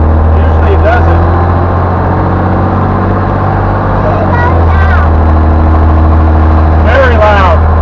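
Loud, steady low diesel engine rumble from an M923A1 military 6x6 truck running, continuous throughout, with people talking over it.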